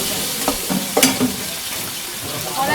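Garlic, ginger and tomato sizzle in a hot pan, with a few clinks and stirring scrapes over steady frying hiss; no speech over it.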